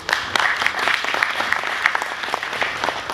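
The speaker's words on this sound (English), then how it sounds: "请给个掌声，谢谢。" An audience at a business event claps continuously, with sharper individual claps poking through a sustained, moderately loud round of applause.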